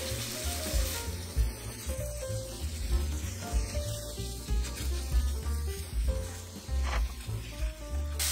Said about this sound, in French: On veut juste cuire légèrement le saumon afin de pouvoir l'émietter.